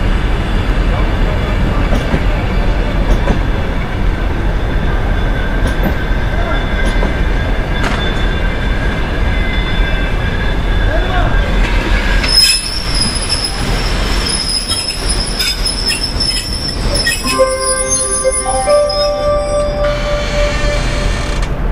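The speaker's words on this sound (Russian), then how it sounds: "пассажирский поезд номер 370 Харьков-Баку прибыл на 3-й путь, платформе номер 2" Passenger train hauled by an EP1M electric locomotive arriving at a station platform, a loud steady rumble of rolling wheels that gives way to sustained high metallic squeals as it brakes to a stop.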